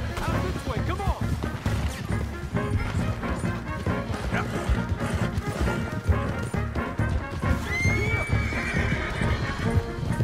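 Horses in the Red Dead Redemption 2 video game gallop with steady clip-clop hoofbeats and loud neighs and whinnies, joined by crashes and thuds, under ongoing game speech and music.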